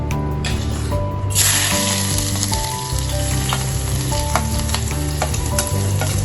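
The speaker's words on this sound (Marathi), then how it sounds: "फोडणीत तेल घातलं आणि तेलामध्ये कांदा घालायचा फोडणीला" Onion hits hot tempering oil for a seafood masala with a loud, close, crackling sizzle, joined by frequent spatula stirring and scraping against the pan.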